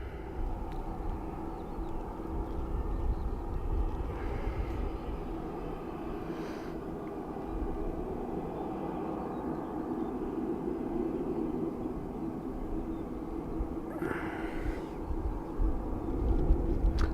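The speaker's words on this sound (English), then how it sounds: "EI3325 in from Manchester. ATR 72-600. Our next arrival to Dublin Airport." An ATR 72-600 turboprop arriving at Dublin Airport makes a steady, broad engine roar that holds at an even level throughout, joined by brief higher whines, with no talking.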